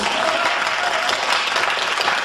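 Audience applause at a community music concert, a dense, even wash of clapping hands that fills the whole stretch at steady loudness without a break.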